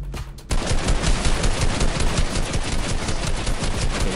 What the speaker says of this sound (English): Looks like I just miss every shot.